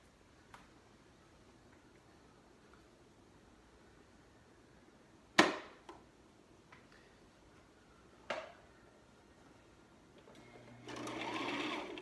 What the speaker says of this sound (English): I've just recently started learning the sewing machine